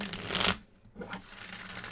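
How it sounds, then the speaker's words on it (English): Tarot cards are shuffled by hand at close range, a quick riffling burst followed by a short pause and a softer, lighter second run of card rustling, with no talking. "that was a bad shuffle. Let's try it again."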